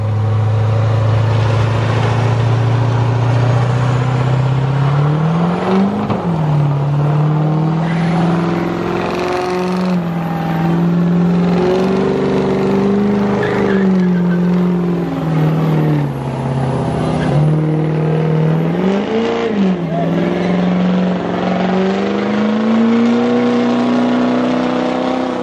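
A truck doing burnouts at a truck and car show roars loudly and continuously up close, its engine revving up and down in repeated surges over a harsh, sustained tire squeal.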